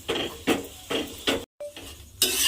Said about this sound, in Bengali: এইভাবে চেপে চেপে কিন্তু পরোটাটা আমাকে ভেজে নিতে হবে